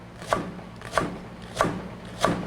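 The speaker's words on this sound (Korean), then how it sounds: "여기에 대파가 있거든요. 흰 대궁 부분 이만큼 썰어주세요" A knife slices the white stalk of a green onion on a cutting board in four evenly spaced, distinct chops, close and fairly crisp over a quiet background.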